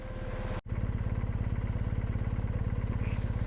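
A BMW motorcycle rides along local roads, its engine giving a steady, pulsing thrum at close range, broken once by a sharp momentary dropout early on before carrying on evenly.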